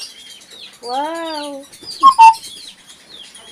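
Birds flutter and chirp close around a person as they land on them, with a short clucking call and a couple of sharp high tweets; a voice briefly exclaims.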